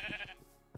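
Goat in the Minecraft video game gives a single short wavering bleat, faint and brief, with no talk over it.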